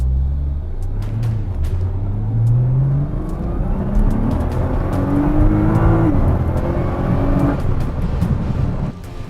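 A car with an automatic transmission and paddle shifters accelerates on a test drive. Its engine drones loud and close, with rising pitch sweeps as it revs up through the gears, and no talk over it.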